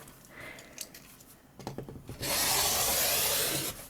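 A blade slices through quilting fabric along a ruler, cutting a 1 1/4 inch strip for an appliqué vine: soft scraping and rubbing first, then a loud, steady rasping swipe close by that lasts over a second.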